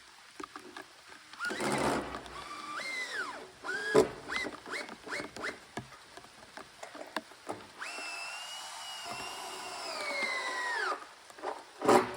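A power driver whirs in several short bursts and then one longer run as screws go into wooden boards to stiffen the frame of a temporary tractor tent. Wood knocks come between the bursts.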